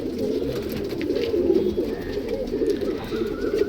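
Pigeons coo steadily in a loft of breeding birds, a dense, continuous low murmur of overlapping calls close by, with faint background noise and no talking.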